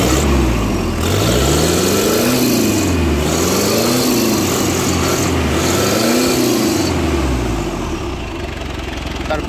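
The engine of a Mazda BT50 pickup revs up and down in three loud, close surges over a steady idle, with no talking.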